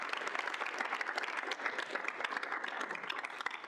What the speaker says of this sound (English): We can get one more round of applause while they take the picture.